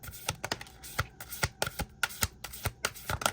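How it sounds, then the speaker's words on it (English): Tarot cards shuffled by hand in a quiet room, a fast run of crisp riffling flicks and slaps with no talking. "you saw me shuffle"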